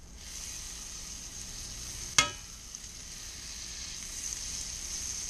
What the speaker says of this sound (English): I'm going to go ahead and put my butter in. Swirl it around a little bit. Make sure it melts.